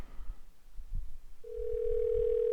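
A steady telephone dial tone starts midway, loud and continuous over faint low background noise, heard while calling a number.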